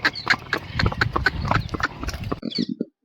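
A ridden mare's hooves clop in a steady rhythmic series of close, fairly loud beats, ending in a brief few softer steps before silence.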